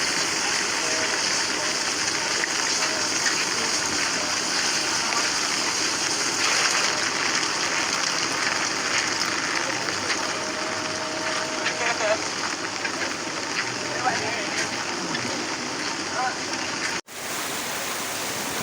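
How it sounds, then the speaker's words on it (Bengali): Heavy rain pours steadily in a dense, continuous hiss, with faint voices somewhere beneath it. "বৃষ্টির অবস্থা দেখে বুঝতেই পারছেন যে কীভাবে বৃষ্টি হচ্ছে"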